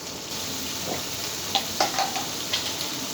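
Spice paste for egg curry sautéing in a pan, a steady close sizzle with a few sharp scraping clicks of a spatula against the pan.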